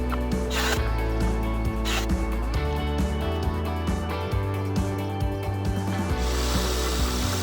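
A power tool cuts the corners off wooden fence boards in a busy, gritty whine with repeated cutting strokes and short pauses, close and steady, ending in a rougher rasp.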